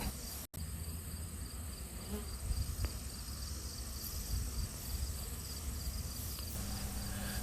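A large swarm of tens of thousands of bees pours into a box outdoors, giving a steady, dense insect hum that stays even throughout with no voices.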